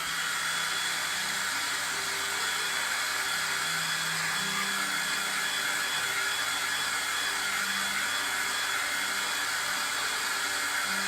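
A handheld dryer blows steadily to dry a Christmas craft tree, giving a continuous, even airy whir with a faint motor hum throughout and no talking.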